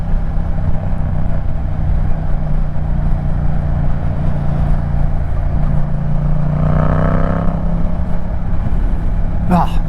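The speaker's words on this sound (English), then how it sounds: "exhaust sounding great right now too" A Yamaha MT-07 exhaust while riding on a commute, a loud, continuous engine drone mixed with wind rumble, rising briefly in pitch as the rider revs near the end, with a voice talking over it.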